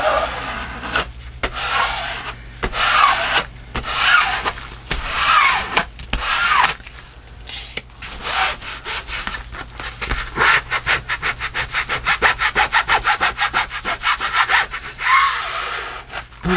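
Kraftex fabric being rubbed firmly while a journal is crafted, giving repeated scratchy, sawing strokes up close, irregular at first, then settling into quick regular back-and-forth rubs.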